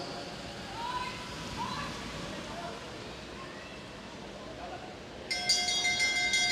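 Bell rung for the final lap of a junior cycling race, a bright metallic ringing that starts near the end over steady crowd and wind noise while a commentator talks.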